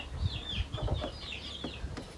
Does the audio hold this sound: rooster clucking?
yes